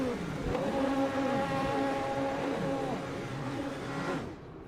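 Race cars in the Le Mans Ultimate sim racing game roll together on a formation lap at Spa, a steady engine drone with harmonic whine layered from several cars, loud and continuous before cutting off abruptly near the end.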